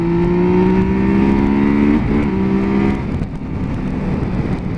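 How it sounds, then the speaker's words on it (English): A Tracer motorcycle engine with standard exhaust hums steadily at cruising speed on a road from Forth to Carnwath, with a droning exhaust note that shifts pitch briefly, under constant rushing wind noise. "Just listen to that engine, that's the standard exhaust."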